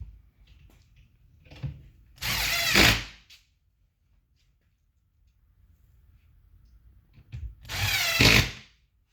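A power drill tightens screws into brackets on a base cabinet, with two loud, close whirring bursts of a few seconds each and quieter handling clunks between them.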